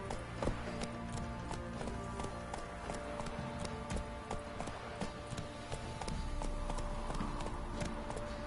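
Horse hooves clip-clop in The Witcher 3 game, a steady run of hoof taps over dense game ambience and music, with a voice calling out briefly.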